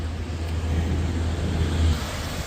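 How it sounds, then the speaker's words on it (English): Steady road traffic rumble on a street in a small Midlands town in Ireland, a constant low engine drone from a passing vehicle, fairly close and swelling slightly before easing, with no voices. "That's the road before a tractor comes."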